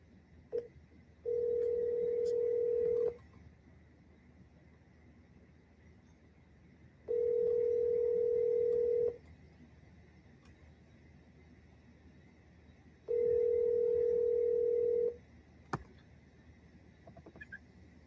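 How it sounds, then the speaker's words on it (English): A telephone being redialed gives three long, steady electronic tones at an even spacing, with faint clicks of key presses between them, all clear and close over a quiet background with no voices. "We're gonna quick double dial that."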